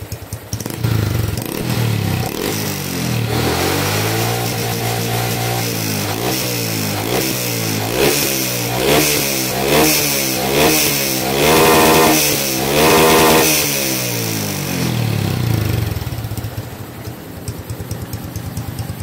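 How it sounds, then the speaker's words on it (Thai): An engine on a new rental motorcycle, with fresh oil after a change, is revved repeatedly up and down in a rising and falling pattern, loud and close, with no talking. "มาเบิ้ลรอบดูว่าเป็นไง"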